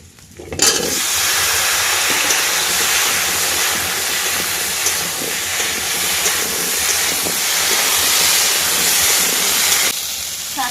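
Taro (kochu) tipped into hot oil with fried bay leaf, green chilli, onion and garlic for a curry, letting out a loud, steady hiss that starts abruptly and carries on without talk.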